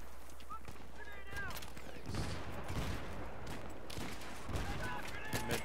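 Bursts of gunfire in a Battlefield 3 Rush match, a rapid crackle of shots with heavier volleys near the middle and the end, set over a steady low game rumble with voices in the background.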